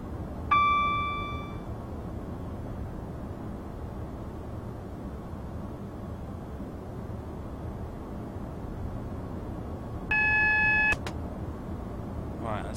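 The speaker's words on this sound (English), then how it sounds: "Right, that's the alarm for the 40 limits." Two short bursts of the speed limit warning alarm in Train Simulator 2015, a Class 180 run from Liverpool to Manchester, ring out as clear tonal beeps near the start and again near the end over a steady low engine rumble.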